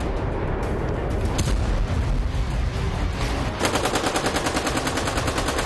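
Gunfire exchanged from both sides across the India–Pakistan border in Poonch, a loud, continuous clatter of bursts throughout, turning into a rapid regular rattle near the end.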